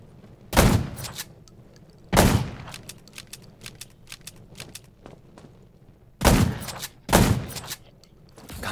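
Several sharp, loud video-game gunshots crack out in two pairs, separated by quieter clicks and handling noises, with a faint hum underneath.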